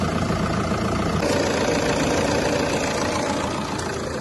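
A car engine with an oil leak underneath idles roughly close by, a continuous, slightly uneven low rumble, loud and steady throughout, with no talking.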